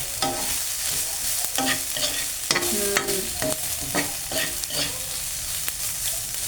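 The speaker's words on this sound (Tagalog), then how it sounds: "Isang mix-mix pa bago maluto ang ating dilis." Anchovy omelette frying in a pan and being mixed, close, loud sizzling broken by frequent rhythmic scraping and clattering strokes of a utensil against the pan.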